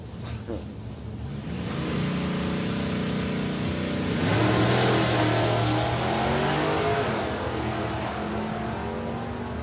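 Drag racing cars accelerate hard at a race event, engines roaring loud and close with a rising rev surge midway as the throttle is feathered, a commentator's voice talking faintly underneath.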